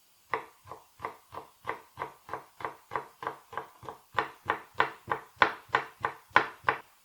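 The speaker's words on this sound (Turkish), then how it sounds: "soğanlarımızı ince ve eşit bir şekilde kesmeye gayret edelim" Onions being sliced thinly with a knife on a board for caramelizing: a steady run of about twenty crisp, evenly spaced chops, close and clear, growing slightly firmer toward the end, with no talking.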